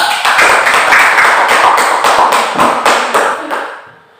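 Applause for a student group in a classroom: a crowd claps steadily and briskly for about four seconds, then fades out, with no talk over it.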